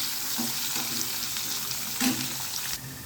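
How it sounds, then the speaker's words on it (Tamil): Small onions and shallots sauté in oil with curry leaves and chilies in a pan for banana flower poriyal. A steady close sizzle runs throughout, with a few brief stirring scrapes and no voices. "இங்கே பாருங்கள், சின்ன வெங்காயம் நல்லா வதங்கிடுச்சு."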